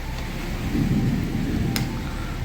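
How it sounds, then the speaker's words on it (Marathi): Low thunder rumbles in the distance under steady rain-like noise, swelling briefly and then settling back. "मस्त ढगांचा आवाज येतोय, विजा पण चमकताय."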